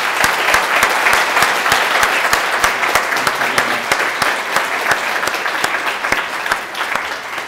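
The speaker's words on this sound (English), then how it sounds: "One more round of applause" A lecture audience gives a sustained, loud round of applause, dense clapping with sharp individual claps standing out, steady throughout with no talking.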